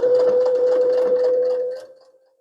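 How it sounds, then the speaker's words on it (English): Sewing machine stitching a fabric bow tie seam with a 3/8 inch seam allowance, a steady close whirring hum that runs for about two seconds and then winds down to a stop. "now that we've sewn down both sides of our bow pieces"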